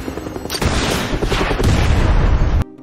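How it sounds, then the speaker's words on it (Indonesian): An RPG rocket launch in a film: a loud whoosh followed by a heavy, rumbling blast that sustains for a couple of seconds before cutting off abruptly. "Lalu pimpinan militan menembakkan RPG."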